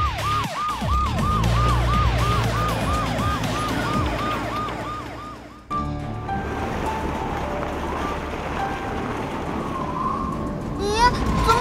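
A cartoon radar police car in a children's animated series sounds its wailing siren in rapid repeating sweeps, loud and close, then gives way to other busy cartoon sounds and music.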